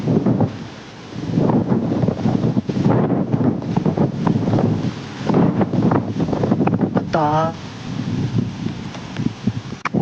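Wind blows hard across an outdoor microphone, buffeting it in loud, uneven gusts, with a brief voice heard partway through.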